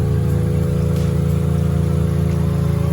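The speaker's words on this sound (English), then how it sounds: "As you can see in those clips, the car is running great." A Chevrolet Cobalt SS engine runs steadily at close range, a loud, even idle hum with a smooth rhythmic pulse and no voices.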